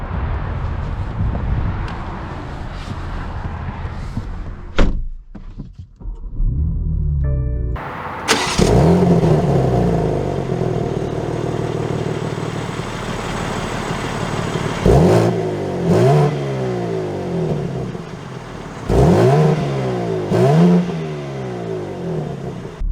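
A 2023 BMW M4 Competition's door thuds shut, then the engine fires with a loud starting flare and settles into an idle, followed by several sharp, close revs rising and falling in quick bursts.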